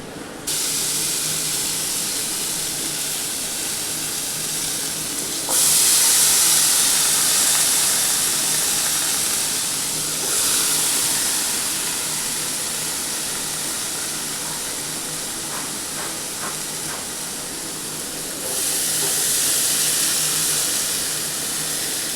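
Vegetables dropped into hot oil spiced with panch phoron, a loud continuous hiss of frying that surges several times as more goes in and then settles to a steady sizzle.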